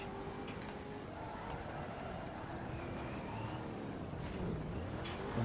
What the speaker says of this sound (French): Écoutez-moi le bruit de cette bagnole.